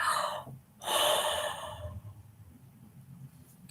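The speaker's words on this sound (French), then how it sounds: "Je vais bailler parce que en fait, ça me détend de rire avec vous." A person yawning during a laughter yoga session: a drawn-out breathy inhale and exhale, close and fairly soft, followed by quieter breathing, with no words.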